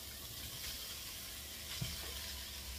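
Onions and zucchini fry in a pan over high heat, giving a steady, fairly faint sizzling hiss with no talk.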